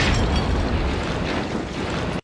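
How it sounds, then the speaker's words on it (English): A grenade blast in the 1987 film RoboCop fills the scene as a loud, sustained broadband roar of explosion and rumble lasting a couple of seconds before cutting off abruptly. "Is that a gas grenade or just a regular grenade?"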